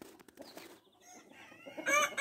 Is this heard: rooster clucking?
yes